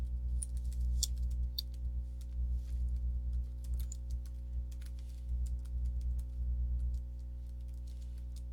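Keys on a computer keyboard tapped in quick, uneven bursts, soft and fairly close, over a steady low electrical hum with short pauses between runs of keystrokes.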